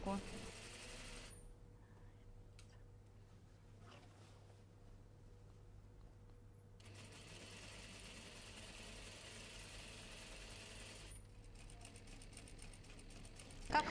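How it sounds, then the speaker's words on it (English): A sewing machine stitches a dress seam in short bursts, its fast mechanical whir starting and stopping with pauses between, close and fairly quiet under a steady background hum. "We are stitching the detail right in the first seam."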